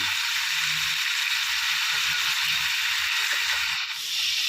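Bean sprouts with minced pork and carrot are being stir-fried in a wok, giving a steady, close hiss and sizzle, with light scraping and clatter from the utensil all the way through.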